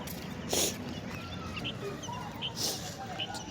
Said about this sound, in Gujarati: કાગરા ને કબૂતરો બધું ખાવા આવી ગયું.